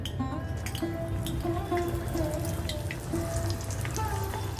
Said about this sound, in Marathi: आपलं तेल तापलेलं आहे आणि ह्याच्यामध्ये आपण वडी घेऊया